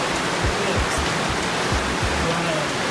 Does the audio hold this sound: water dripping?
yes